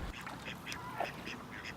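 Live decoy ducks quack faintly in a quiet marsh setting, several short nasal calls spaced irregularly with one slightly louder call midway.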